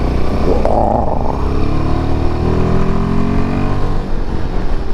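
A Royal Enfield Himalayan 450 motorcycle engine revs loudly and close, its rumbling note rising and holding steady with a throaty drone.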